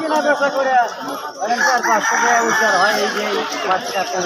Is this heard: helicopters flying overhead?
no